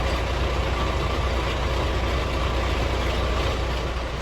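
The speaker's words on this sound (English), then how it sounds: "Listen to that old shit car." An old car engine idling nearby inside a garage, a loud, steady low rumble with constant broadband noise and no change in pace, heard alone without talk.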